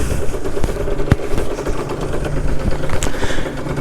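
A motorcycle engine idles with a steady low rumble and faint mechanical ticks, close by and continuous.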